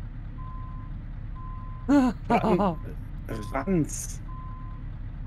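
Truck reversing alarm in Euro Truck Simulator 2, steady evenly spaced beeps running through the clip under an engine hum, briefly interrupted by someone speaking.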